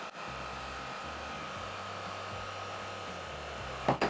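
A counterfeit Dyson-style vacuum cleaner runs steadily at low volume, a constant whirring hum with a brief knock near the end.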